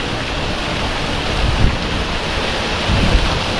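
Steady roaring rush of falling water from the Devandi waterfall near Bhairavgad, Shirpunje, broad and continuous, with wind buffeting the microphone and a couple of louder surges.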